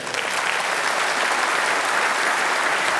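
Loud, sustained applause from a party conference audience after the Prime Minister's speech, a dense unbroken roar of clapping at steady volume throughout.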